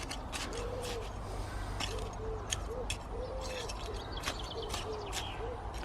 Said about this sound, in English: I don't know if you can hear the pigeons calling